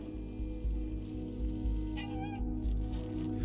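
A cat meows in the video game Stray, a short rising call around the middle over a steady low game soundtrack, with faint scattered clicks around it.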